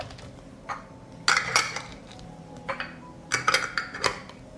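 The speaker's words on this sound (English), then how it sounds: "I close the jars with a clean lid." Glass jars clinking as clean lids are fitted and closed, several separate knocks and clinks in two bursts, close and fairly loud over quiet kitchen background.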